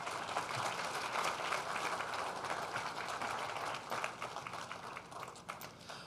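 Banquet crowd at a rugby alumni dinner clapping for the host's wife, a dense sustained round of applause from many hands that fades slightly near the end.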